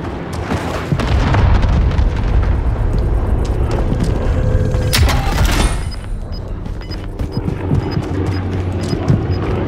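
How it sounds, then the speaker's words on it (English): Heavy, rolling explosions from a bombing run in the battle royale game Call of Duty: Warzone, pounding continuously for several seconds before easing off into quieter game sounds with a faint repeating beep. "Incoming bombing run! Another bombing coming."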